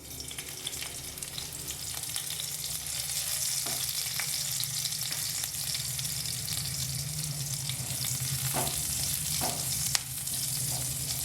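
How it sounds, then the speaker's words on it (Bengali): Chopped green chillies sizzle and fry in hot oil in a pan, a steady close crackling hiss running throughout with occasional stirring clinks. "তেল গরম হয়ে গিয়েছে, আমি প্রথম কাঁচা লঙ্কা কুচিটা দিয়ে দিলাম।"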